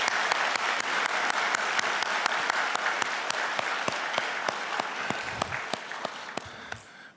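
A church congregation applauds at a year-end service, a dense, sustained clapping from a large crowd with sharp individual claps standing out throughout, fading away at the very end.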